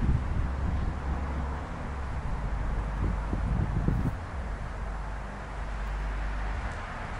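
Wind gusts through an abandoned trailer park in the Tampa Bay area of Florida, fluttering the loose pages of a book. A steady, low, rushing roar with soft rustling runs unbroken from start to finish.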